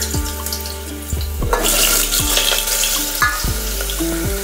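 Pricked potatoes drop into hot oil in a pressure cooker, several sharp splashes followed by a loud, continuous frying sizzle and bubbling close by, with no talk.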